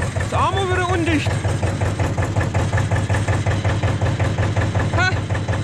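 A farm vehicle's engine runs steadily with a low, even idle-like drone, heard close throughout, while someone talks briefly near the start and again near the end.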